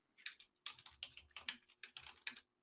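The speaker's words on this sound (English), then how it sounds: "I was actually just sitting here typing out an answer to Phil's question" Fingers type on a computer keyboard in quick, uneven bursts of close, crisp key clicks with short pauses between runs. No one speaks.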